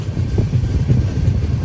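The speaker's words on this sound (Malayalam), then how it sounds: "പാനിപ്പത്ത് ജംഗ്ഷൻ റെയിൽവേ സ്റ്റേഷനിലേക്ക് ഇതാ നമ്മുടെ ട്രെയിൻ എത്തിക്കൊണ്ടിരിക്കുകയാണ്" A passenger train, the Uttar Sampark Kranti Express, pulls into Panipat Junction station with a loud, steady low rumble of wheels and carriage, heard from onboard with no voices.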